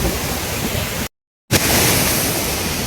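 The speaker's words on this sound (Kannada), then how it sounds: "ಫುಲ್ ಪ್ರೆಷರ್ ಐತಿ ನೀರ." A waterfall at Green Valley rushes at full pressure with a loud, dense roar of water. The roar cuts out for a moment and then returns just as strong.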